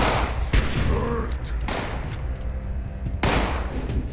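Gunfire in the Fallout 76 video game, with a 10mm weapon fired quickly: three sharp, loud shots spaced over about four seconds, with faint background sound between them.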